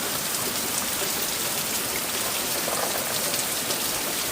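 Steady rain pours down in a dense, even hiss that never lets up, loud and close, with no voices.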